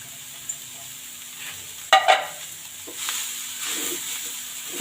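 Shredded cabbage and green onion leaves sauté in a pan, a soft continuous sizzle with a sharp stirring clatter near the start and light scraping afterward, no talk.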